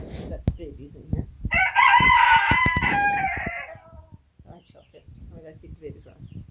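Chickens in a coop with baby chicks during a winter blizzard: one loud, drawn-out rooster crow rises close by, then scattered clucks follow while a person talks.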